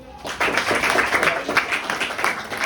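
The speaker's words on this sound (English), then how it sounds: "Clapping." Students in a mathematics class clap together in a quick, steady rhythm, a close burst of repeated claps filling the room for a couple of seconds.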